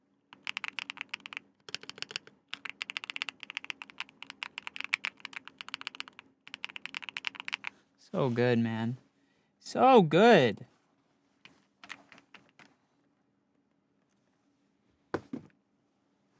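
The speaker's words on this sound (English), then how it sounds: "imagine you're like playing games or typing and your keyboard sounds like this" Rapid clacky keystrokes from a custom mechanical keyboard come in bursts for about eight seconds, then a voice speaks briefly and a few scattered clicks follow.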